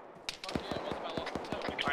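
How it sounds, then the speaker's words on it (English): Gunfire cracks close by during a military field training exercise, a rapid string of about a dozen sharp shots in an uneven burst, with faint voices in the background. "Shots up here close in front of us."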